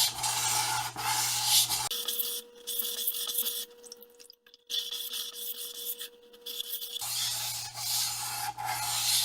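A German Othello chef's knife is drawn across a whetstone in close, raspy scraping strokes, with a pause in the middle before the grinding picks up again.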